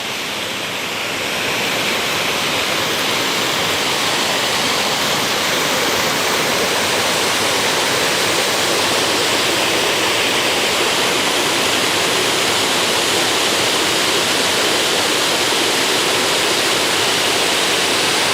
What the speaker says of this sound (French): Vous devez entendre le bruit de l'eau.